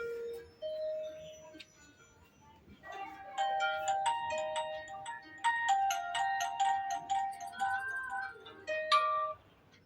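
A mobile phone ringtone plays a bright, tuneful electronic melody of bell-like notes that rises and repeats for several seconds, clear and alone at a moderate level.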